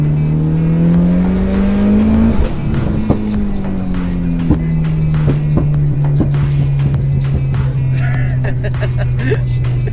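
A tuned rally car engine rumbles loudly nearby, its low drone broken by repeated sharp pops and crackles.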